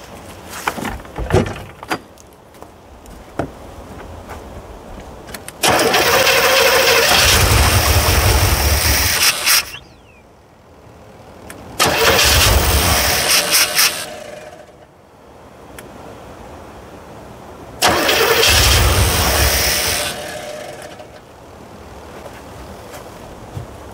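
A 1984 Corvette engine that has sat unused for years cranks and fires in three loud bursts of several seconds each, with quieter pauses between them and a few knocks before the first attempt.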